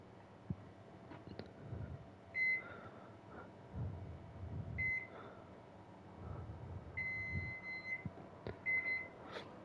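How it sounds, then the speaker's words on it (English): A microwave oven timer beeping in a quiet room, a few short high electronic beeps and one longer tone scattered over low background rumble and soft handling noises, faint overall. "Set the 15-second timer on our microwave there."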